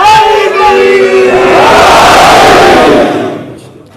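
A congregation at a Shia majlis shouts a religious slogan in unison, a loud, surging collective roar of many voices that swells and then fades away over about four seconds.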